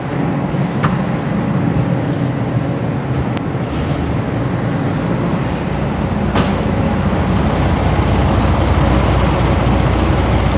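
A 1972 VW Karmann Ghia engine idles after a tune-up, a loud, steady rumble up close, with a rough, even drone and no voices.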